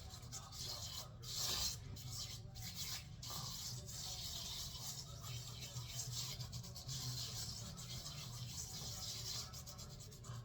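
Coffee scrub mixed with oil is rubbed over the face, especially around the nose. The soft, continuous close-up scrubbing is faint, with no talking.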